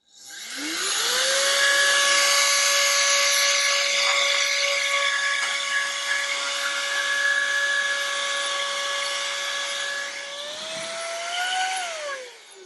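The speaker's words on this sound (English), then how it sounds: "the air duster will blow it away" A Kairiyard rechargeable compressed air duster blows dust with a loud, steady high-pitched motor whine that spins up, holds for about ten seconds, then briefly rises in pitch before cutting off, with no voices.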